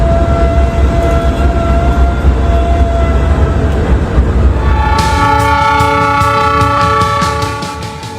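A Ferrocarril Central Andino train rumbles loudly along the track in Peru, its horn blaring a sustained chord before a second, brighter horn blast cuts in and holds until the end.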